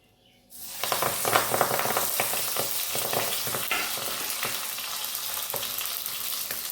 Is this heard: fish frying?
yes